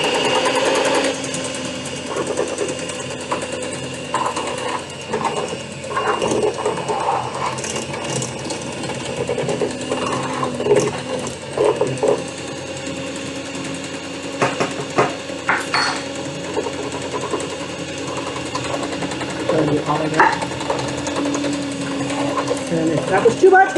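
Electric mixer whirs steadily through mashed potatoes in a home kitchen, a loud continuous buzzing drone with occasional clatter, running for the whole stretch while a person talks now and then.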